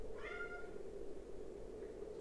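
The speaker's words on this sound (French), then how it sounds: "mon chat fait un peu des bêtises" A house cat gives one short, clear meow near the start, then falls silent over a steady low background hum.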